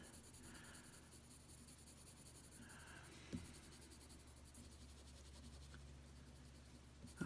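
Prismacolor colored pencils shading skin tones on paper, a soft continuous scratchy stroking that comes and goes in short bursts, faint and close, with a small knock partway through and no talking.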